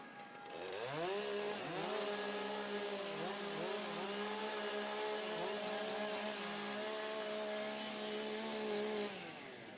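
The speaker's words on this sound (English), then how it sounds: "Okay, gentlemen, warm up your saws." Several chainsaws rev up together as competitors warm up their saws at a STIHL Timbersports World Trophy event, with rising and falling engine whines that overlap loudly and continuously for most of the stretch.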